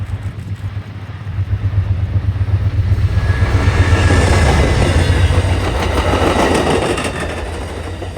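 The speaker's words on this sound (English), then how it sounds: "This train is powered by a former Amtrak P40 locomotive that the state of Connecticut acquired for this service." A passenger train hauled by a former Amtrak P40 diesel locomotive on the Northeast Corridor in Connecticut rumbles steadily past at close range, the engine's low drone building into a loud sustained roar of wheels and rail noise.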